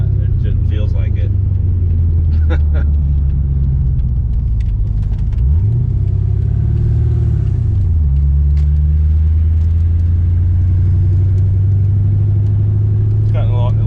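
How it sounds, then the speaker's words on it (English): Steady deep rumble from an idling car engine with a small exhaust leak, low and continuous throughout, briefly shifting pitch midway, with faint voices in the background. "It's got a little exhaust leak,"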